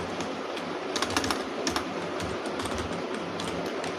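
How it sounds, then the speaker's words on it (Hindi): A new, inexpensive computer keyboard being typed on, its keys giving quick, close clicks in uneven bursts over a steady background hiss, with no talking. "तो यहाँ पे हम टाइपिंग करते हैं"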